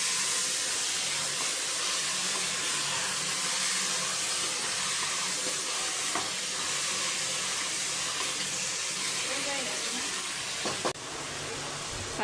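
Kakrol, or spiny gourd, goes into a pan of onions fried brown, producing a broad steady hissing sizzle that holds for several seconds before a brief clatter, with faint talk in the background.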